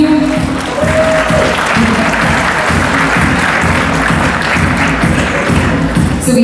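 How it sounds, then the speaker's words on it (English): Loud, sustained applause from a large gala audience, steady clapping filling the room throughout. "Please give a huge round of applause"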